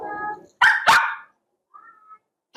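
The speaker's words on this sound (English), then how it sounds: "if she goes in and I close the door, she's going to bark" A puppy barks behind a closed door indoors with two sharp, close barks, then gives a short whimpering whine. A voice talks briefly just before the barks.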